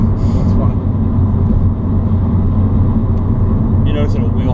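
Ford Focus ST in sport mode accelerating hard in low gears, a steady loud engine and road drone filling the cabin with a brief higher whine near the end.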